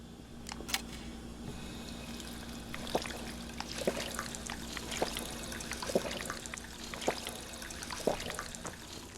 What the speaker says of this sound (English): Take these bottles and fill them with water.